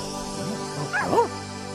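A cartoon dog barks and yips in a children's animated story set on Jupiter, giving a few short, close, bright yelps over a soft background music bed with no talking.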